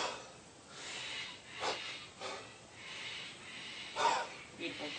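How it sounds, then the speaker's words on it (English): Rhythmic heavy breathing during kettlebell push press reps, a series of sharp forced exhales and inhales at close range, paced with the lifts, fairly quiet with no talk. "so that you can see that breathing pattern in action"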